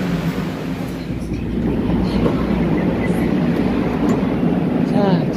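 A moving train rumbles steadily with a low roar and faint rhythmic clatter, growing slightly louder partway through; heard aboard a South Korean train toward Cheongnyangni Station.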